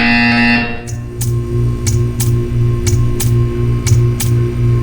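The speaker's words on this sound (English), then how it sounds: "You will hear a buzzer. When you hear the buzzer, stare at the art." In the video game Portal 2, a test-chamber buzzer sounds as a short tone, then about eight evenly spaced electronic pulses repeat over a low droning hum.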